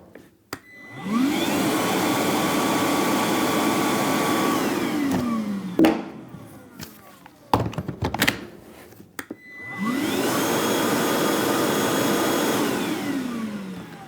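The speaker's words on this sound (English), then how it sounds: "we're going to test suction here" A Flex 24V cordless vacuum runs a suction test. It whirs up to a loud, steady whine, winds down with a falling pitch, and is followed by a few clatters before starting up again.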